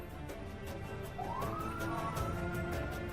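A police car siren wails, rising and falling over a steady road rumble as part of a convoy escort in Egypt, loud and continuous.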